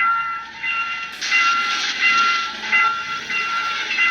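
A video game train passes a South Korean railroad crossing with a loud rushing hiss and a bright whistle-like ringing tone that rises and holds, with no talking.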